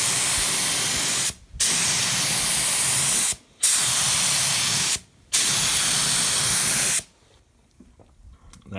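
A paint spray gun applies a coat of Eastwood rust encapsulator in three long, steady hissing bursts, each broken by a brief pause. A fourth burst cuts off abruptly, leaving near silence.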